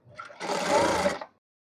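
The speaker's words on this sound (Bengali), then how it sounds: "এই পাশে চিকন করে সেলাই করে নিব" Sewing machine stitching a thin seam in fabric for a baby frock, one short steady whirring run of under a second that starts and stops abruptly, close and clear with no talk.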